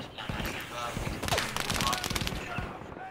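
Rapid gunfire bursts from a Battlefield 5 military-simulation match crackle close and loud across the whole moment, overlapping with voices talking.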